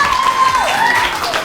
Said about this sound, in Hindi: तालियां बजाओ हफ्सा के लिए।